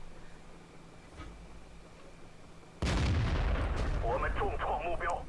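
A tank main gun firing in the World of Tanks video game on the Malinovka map, one sudden loud blast followed by a sustained roaring rumble and ringing tail, with faint voices mixed in.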